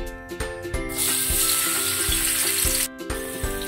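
Garlic dropped into hot cooking oil in a heated pan, sizzling loudly and steadily for a few seconds with faint stirring clicks, close and alone with no talk.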